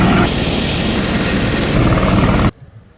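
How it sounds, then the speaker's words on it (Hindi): A 7-seater helicopter at the Golapar helipad, a loud, close, continuous rotor and engine roar that cuts off abruptly near the end, with no one speaking. "यहाँ से चंपावत, पिथौरागढ़ और मुनस्यारी के लिए हवाई सेवा स्टार्ट की जा रही है, जिसमें कि 7 सीटर हमारा चॉपर है"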